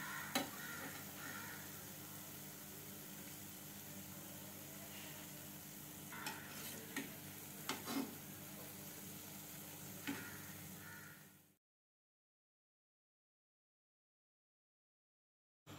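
Sweet bondas made from maida deep-fry in oil until golden brown, giving a steady bubbling sizzle with occasional light taps and stirs. The frying stops abruptly and silence follows.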